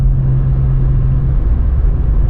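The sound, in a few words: VW Up GTI engine, throaty sound while driving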